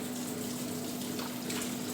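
A kitchen faucet running hot water, a steady close rushing hiss with a faint constant hum beneath, with no voices.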